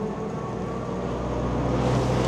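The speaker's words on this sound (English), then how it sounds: "I think there's another car coming." A car approaches and rolls past on a hillside road, its broad rumbling whoosh holding steady and swelling slightly toward the end, with no voices.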